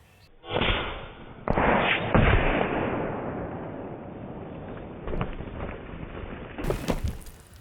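An Airgun Technology Netvor .457 PCP air rifle fires outdoors, giving a sudden loud burst followed by a few further sharp bursts and a fading, wind-like rumble.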